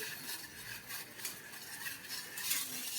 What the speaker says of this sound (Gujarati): ગોળને આપણે પાણીની સાથે સારી રીતે મિક્સ કરી દીધો છે